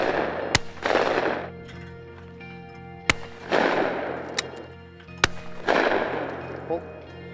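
Shotgun trick shots at clay targets: three sharp, loud blasts spaced a few seconds apart, each followed by a long decaying echo, with a faint voice calling out between shots.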